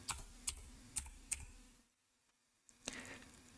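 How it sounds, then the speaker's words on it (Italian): Keys on a computer keyboard are pressed to enter a verification code: four crisp, close keystrokes in an uneven rhythm, a short quiet pause, then a softer rustle of further typing. "Dopo averlo letto nell'email, andiamo a digitarlo."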